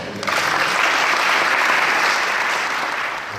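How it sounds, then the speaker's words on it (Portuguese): An audience at a lecture on Brazilian labor-law modernization breaks into applause: dense, steady clapping from many hands that fills the whole stretch at close range, with no voices standing out. "Bem-vindo à salva de palmas."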